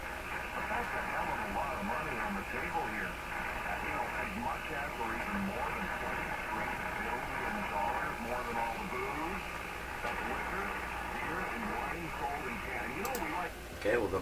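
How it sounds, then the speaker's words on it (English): An SDR receiver tuned to 455 kHz picks up the intermediate-frequency signal leaking from a tube radio, giving a steady faint hiss with warbling, muffled garbled voice-like modulation throughout and a brief click near the end. "what you're hearing now is the SDR radio tuned to 455, picking up signals from the tube radio"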